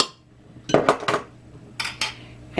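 A glass jar of home-canned mixed berry pie filling is opened up close, giving a few sharp metallic clinks and taps of the lid in quick bursts, with no talking.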